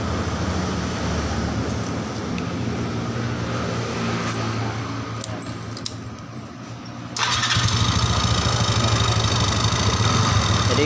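A Yamaha Xeon GT 125 fuel-injected scooter engine idles steadily up close, a mechanical drone that jumps louder and brighter about seven seconds in as the revs rise, with no talking.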